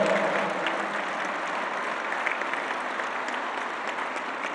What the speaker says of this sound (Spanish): Un aplauso a los productores de Jalisco.